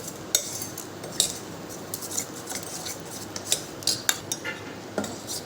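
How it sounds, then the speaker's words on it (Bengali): Spices, mustard oil and pickle being mixed together in a bowl, heard as scattered light clinks and scrapes of a utensil against the bowl at an uneven rhythm, close by and fairly quiet, with no talking. "সব এটা ভালো করে মাখাবো।"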